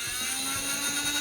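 An Adventure Force V-Twin toy blaster from 2019 revs its motor, giving a steady, high-pitched whirring drone that holds even and continuous for about a second, close up and alone.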